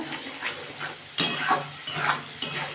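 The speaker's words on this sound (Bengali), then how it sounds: "এটাকেই বন্ধুরা ভালো করে কষাবো মানে জিরে দিয়েছি তো গন্ধ ছাড়বে" Cumin is being stirred and sautéed in a pan while a spinach and fish curry is cooked, producing a few distinct scraping stir strokes over a soft, steady sizzle, close and moderately loud.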